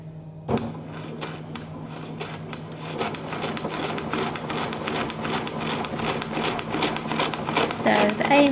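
A sewing machine doing free-motion embroidery on water soluble film, running in a steady rapid whir of stitches that builds after a brief start, with some background rubbing and handling.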